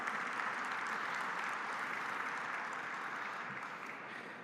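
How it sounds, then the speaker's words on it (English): Sustained applause from a large audience at a smart cities forum, a dense, even roar of clapping that holds steady and fades slightly near the end. "I'd like to ask everyone to join me for a round of applause to thank the team for the great job that they've done."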